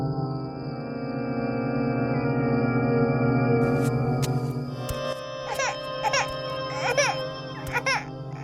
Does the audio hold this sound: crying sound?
yes